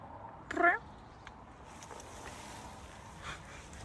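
A single short cat meow rises briefly out of quiet room tone near the start, followed by faint background hiss and a soft distant noise.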